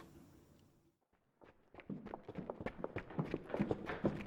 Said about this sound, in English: The sound of footsteps coming up the stairs.